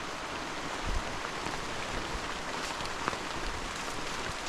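Steady rain falls outdoors on Mount Buhangin in Mainit, Surigao del Norte, a continuous dense hiss with scattered close drop impacts, no voices heard.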